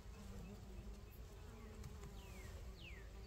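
Honey bees swarm and hum around an opened backyard hive during a frame inspection, a steady low drone with a few individual bees zipping close past and fading away.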